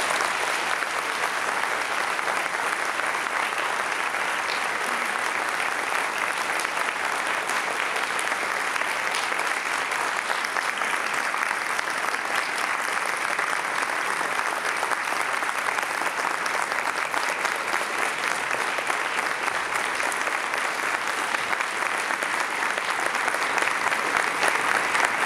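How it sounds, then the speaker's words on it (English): Sustained applause from a conference audience at a trauma-informed care summit, honoring a panel; steady, dense clapping fills the room evenly for the whole stretch without voices on top. "I'd like to give another round of applause to our entire panel."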